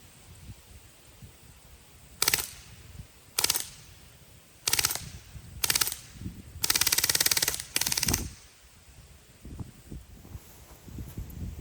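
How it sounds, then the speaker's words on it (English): Umarex Strike Force CO2 air gun firing full auto in six short rapid bursts, the last one longer, loud and close with quiet gaps between bursts outdoors. "we'll see what kind of spread we get with full auto fire"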